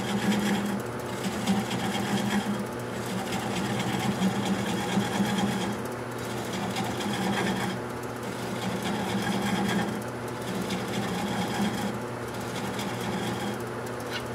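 A wood lathe turns a bowl at about 300 RPM, a steady mechanical whir with faint scraping and a soft pulsing that recurs about every two seconds. It runs continuously at moderate level with no talk.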